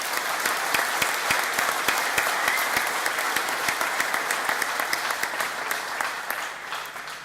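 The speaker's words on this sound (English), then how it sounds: "let's give him a round of applause" Sustained audience applause fills a college graduation ceremony hall, dense steady clapping from many hands carrying on evenly for several seconds with no talk over it before fading slightly at the end.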